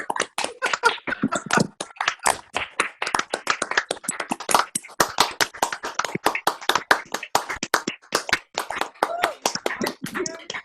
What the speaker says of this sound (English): Unmute yourself so we can hear the applause.